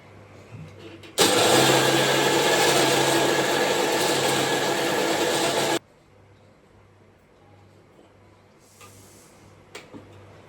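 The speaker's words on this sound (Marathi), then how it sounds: "आता हे जे आहे हे मी सगळं मिक्सरमधून काढते" A kitchen mixer grinder grinding dosa batter for a fasting dosa, a loud steady whirring roar that starts abruptly, runs about four and a half seconds, then cuts off to quiet room tone with a faint clink afterward.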